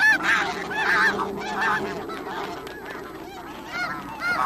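A flock of geese honks repeatedly, clear nasal calls overlapping in uneven bursts, some near and loud, others fainter, over a soft outdoor background in icy terrain.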